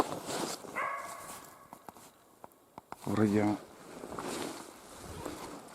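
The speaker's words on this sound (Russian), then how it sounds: "Это впустую лает, думаю, сейчас" A hunting dog named Aida barks in a forest during a capercaillie hunt in Komi, giving a few short barks at middle distance with someone talking over parts of it.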